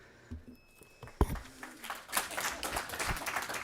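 Audience clapping breaks out at a town council meeting, a scattered patter of hands that starts faint and builds into steady applause across the room, preceded by a sharp knock.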